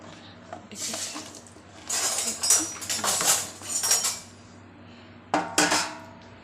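A kilo of chopped tomatoes is tipped from a steel vessel into a pot on the stove for tomato pickle, with clattering metal clinks and scrapes coming in uneven bursts close by.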